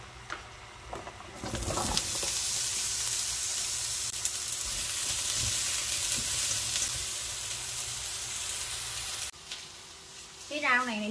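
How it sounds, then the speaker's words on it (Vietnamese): Beef stir-frying in a pan, a steady loud sizzle that starts abruptly, keeps going for several seconds and then cuts off, with a voice talking briefly near the end. "Còn ở đây là thịt bò, mình sẽ xào cái thịt bò trong cái chảo."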